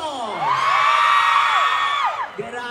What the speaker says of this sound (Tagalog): paninigapan ko ng palakpakan na may kasamang hiyawan